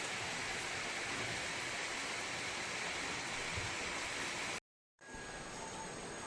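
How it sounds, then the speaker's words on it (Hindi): Steady rain pours outside a home on a hillside during a heavy downpour, a dense, continuous hiss that stays loud and even throughout, with one sudden break of near silence just before the end. "तो बाहर बारिश पड़ रही है"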